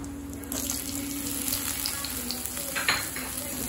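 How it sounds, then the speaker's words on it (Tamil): Onions sautéing in a pan for onion tomato chutney: a close, steady sizzle with scraping stir strokes and a brief louder burst near the end, and no speech. "வெங்காயத்தை நல்லா வதக்கிக்கலாம்."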